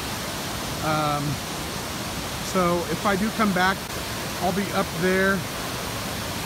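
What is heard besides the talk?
waterfall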